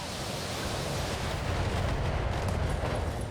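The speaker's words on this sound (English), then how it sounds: "Ooh, ammo explosion, right torso." In the BattleTech video game, ammunition explodes inside a mech's right torso, a loud, sustained roaring blast with a rumbling, crackling wash of noise that fills the whole moment without talk.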